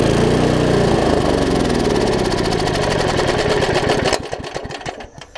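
An old Garden Pride lawn mower engine runs loud and close with a rapid chugging rhythm, then sputters and dies away unevenly; a misfiring, hard-starting machine with a split plug wire grounding out.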